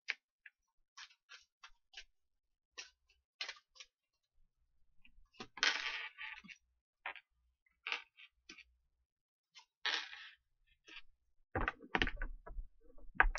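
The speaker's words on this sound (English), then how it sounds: "Two more shuffles." Tarot cards shuffled by hand in short, dry riffling bursts and soft taps, a steady run of close, quiet card noises with pauses between.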